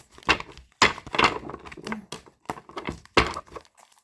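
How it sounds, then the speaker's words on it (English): Tarot cards are shuffled by hand in close, uneven bursts of riffling and flicking, separated by short pauses, with no talking. "I'm gonna keep shuffling these cards because, honey, I don't want them to pop out on me."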